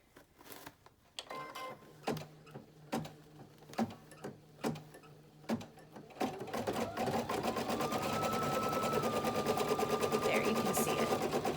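An embroidery machine stitches a design onto a kids shirt: a few separate clunks and taps, then a steady, fast, rhythmic mechanical whirr of stitching that grows louder and continues without pause, heard close.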